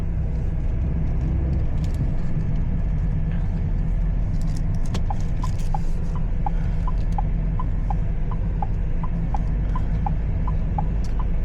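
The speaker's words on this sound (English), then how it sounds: "Now we are facing a little bit of traffic." Road traffic heard from inside a car on King Abdullah Road in Riyadh, a loud steady engine and tire rumble with a repeating faint ticking, like a turn indicator, through the second half.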